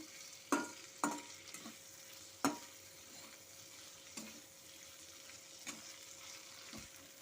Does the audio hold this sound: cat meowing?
no